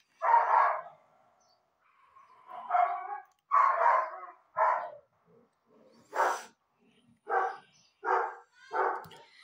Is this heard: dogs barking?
yes